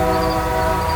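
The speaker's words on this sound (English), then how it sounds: "it's still tooting its horn." A train sounds its horn in one loud, sustained, steady blast that fills the whole moment, with no talking.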